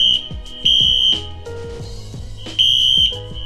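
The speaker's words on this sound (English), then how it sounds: "the goddamn fire alarm's going off" Piercing high-pitched hotel fire alarm beeps sounding in bursts at night, loud and close, with muffled thumps and rustling in between.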